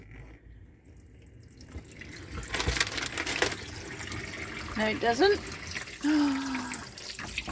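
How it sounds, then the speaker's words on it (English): Warm water runs from the tap of a 1997 Elddis Vogue caravan freshly fitted with a new pump, a steady splashing flow under a few spoken voices nearby. "Warm running water."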